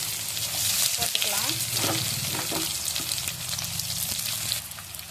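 Chopped onions frying in hot oil with mustard seeds and curry leaves for a crab gravy give a steady, loud sizzle with stirring scrapes and light clinks throughout.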